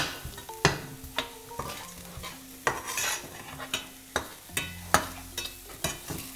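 Onions, garlic, dried shrimps, curry powder and curry leaves sautéing in a little oil in a pan, with a steady sizzle under frequent close spatula scrapes and knocks against the metal as they are stirred.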